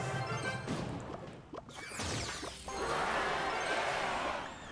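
Sparky's heavy electric blast slams into a skeleton barrel in Clash Royale, a loud crashing smash followed by a whooshing, crackling burst of game effects that rings on to the end.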